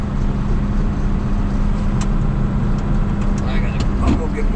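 A truck stuck on a slick harvest field spins its wheels, its engine droning loudly and steadily throughout, with a faint voice under it.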